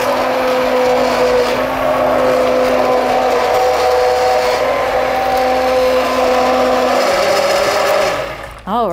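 An immersion blender purees vegan butternut squash soup right in the pot, a loud steady whir running for about eight seconds with shifting pitch, then winding down at the end.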